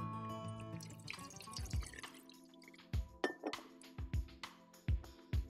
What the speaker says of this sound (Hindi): उसको जरा सा धो लेते हैं पीने के पानी के साथ।